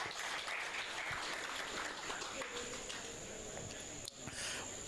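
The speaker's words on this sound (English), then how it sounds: "Hand clap for Andrew, ladies and gentlemen" Sustained applause from an event audience, dense and continuous, with a short break near the end before clapping picks up again.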